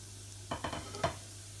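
Whole spices, including black pepper and cinnamon sticks, hit hot oil in a pan for a lamb and potato curry. A few quick sizzling bursts rise out of a low, steady background hum.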